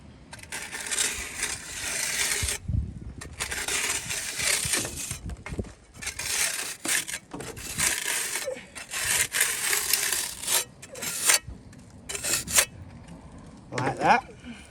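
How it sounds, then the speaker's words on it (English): A pointing trowel scrapes and rubs against mortar on a stone parapet in repeated short strokes, close and fairly quiet, with intermittent pauses and small knocks between passes. "the pointing trowel just to run a straight line up that mortar fillet"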